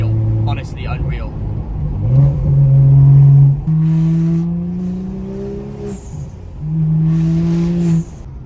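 A BMW with an MHD Stage 2 tune revs hard several times, each burst ending in a fluttering turbo whoosh, loud and close, with short pauses between pulls.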